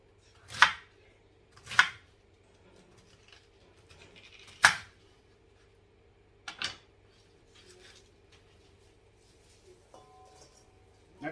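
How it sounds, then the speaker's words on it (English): A knife shreds cabbage on a cutting board in a home kitchen, making a handful of sharp, separate crunching slices several seconds apart, close by with quiet gaps between them. "That's the way I've always shredded my cabbage"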